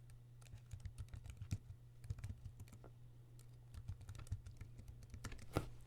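Username and password typed on a computer keyboard, a quiet close run of irregular key clicks in short bursts with brief pauses between.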